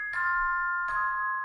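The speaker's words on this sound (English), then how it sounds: "I have the celeste actually just play out the chords like this." Two soft, bell-like celeste strikes about three-quarters of a second apart, each ringing out a bright polychord with a gentle decay, quiet and alone.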